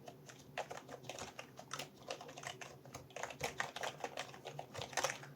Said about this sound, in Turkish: Sessiz bir şekilde tuşlara basıyorum.